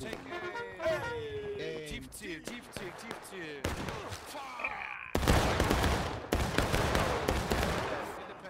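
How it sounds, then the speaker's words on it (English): Musket volleys crack out in a War of Rights Civil War battle at Piper Farm, scattered shots early giving way to a dense, loud fusillade of overlapping reports, with voices shouting in the background. "devastating volley from the AG here"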